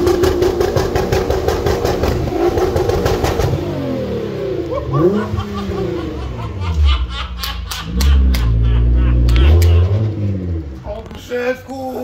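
A 650 hp Nissan GT-R engine idles and revs during an exhaust muffler test, giving a loud, steady mechanical drone with rising and falling swells as voices talk over it.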